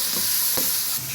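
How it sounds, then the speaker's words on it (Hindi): Crushed chili and black pepper are stirred into egg fried rice in a hot pan: a soft, steady sizzle with one brief scrape of the spoon midway. "अब इसको अच्छे से कर दूँगी मिक्स"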